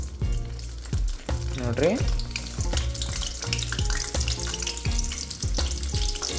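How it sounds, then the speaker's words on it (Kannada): Raw banana slices deep frying in hot oil for Uttar Karnataka banana bhaji, a steady loud sizzle and crackle with stirring clinks and brief splashes, while someone talks over it. "ಈಗ ಬಾಳೆಕಾಯಿ ಎಣ್ಣೆಗೆ ಹಾಕಿ ಕರಿಬೇಕ್ರಿ."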